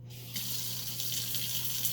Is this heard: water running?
yes